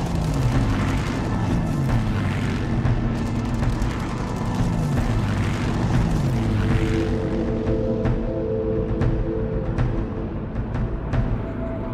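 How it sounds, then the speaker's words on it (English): Spitfire fighter aircraft from Biggin Hill flying into action, a loud, dense roar of engines with rising and falling drones as planes pass, heavy rumble throughout, no voices. "Spitfires from Biggin Hill are the first into action."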